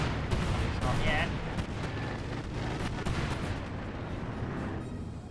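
Cluster bombs and artillery rumble and crack in the World War II strategy game Company of Heroes 2, a continuous dense barrage of booms with a commentator talking over it.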